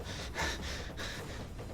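A voice imitates stressed panting during a fantasy tabletop role-playing session, several quick, harsh breaths in a faint rhythm, alone and close.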